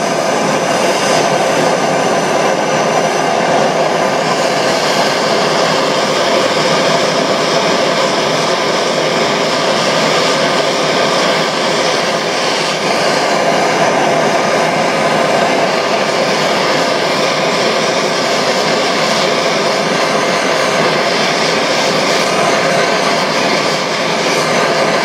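A Briggs & Stratton Model B engine runs continuously, a loud, steady mechanical drone with a dense rattling texture that holds without a break for the whole stretch, close by and with no voices.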